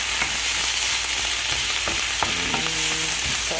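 Stuck food being scraped off the bottom of a hot, sizzling pan while cooking a quiche: short scratchy utensil strokes over a constant frying hiss, close and clear, with no talking.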